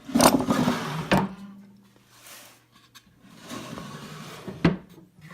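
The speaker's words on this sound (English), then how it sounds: "this is just a dummy drawer that would come out all together" Dummy drawer of a Kreg router table cabinet sliding out, with a couple of woody knocks and a soft rumbling slide, close by, followed by a quieter scrape and another thump near the end.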